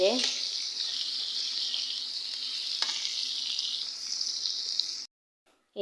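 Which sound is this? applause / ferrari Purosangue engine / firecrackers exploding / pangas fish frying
pangas fish frying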